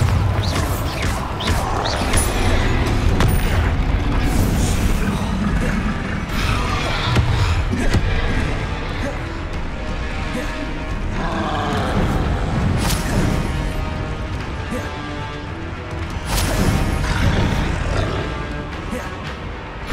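Dense, loud game-combat noise from Hogwarts Legacy on PS5, with Bombarda spell explosions crashing and booming one after another over a constant rumble, with no talking.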